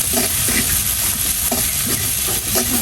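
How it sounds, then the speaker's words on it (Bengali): Black cumin seeds fry in oil in a home kitchen pan, giving a steady loud sizzle and hiss throughout with occasional stirring scrapes, and no voice. "হালকা একটু ভেজে নিচ্ছি।"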